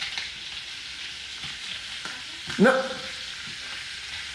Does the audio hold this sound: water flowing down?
no